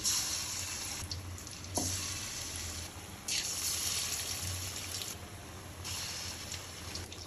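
Batter-coated stuffed pointed gourd fritters frying in deep oil make a continuous close hiss and crackle. Bursts of brighter spitting come and go as pieces shift in the pan.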